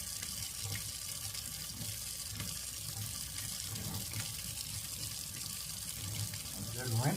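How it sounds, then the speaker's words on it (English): Cool tap water runs steadily over soiled medical instruments in a sink during decontamination cleaning, a continuous close splashing hiss with small clinks and shifts as the instruments are rinsed. "I'm just gonna rinse that off."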